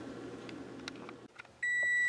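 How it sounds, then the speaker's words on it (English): A steady key-in-ignition warning tone from a 2006 Toyota Yaris comes in and holds, following a few soft clicks and faint movement in a quiet space. "That beeping's my keys in the ignition,"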